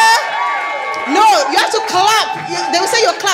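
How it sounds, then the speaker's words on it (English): A crowd cheers and whoops to welcome guest Hayet Rida onto the stage, with loud overlapping shouts and excited voices rising and falling throughout. "Can we give a round of applause for Hayet Rida?"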